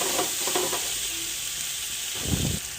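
Ginger garlic paste sizzles in a hot pan for Bengali tarka with a steady hiss, while a spoon scrapes and stirs it in a few short bursts, the last one louder.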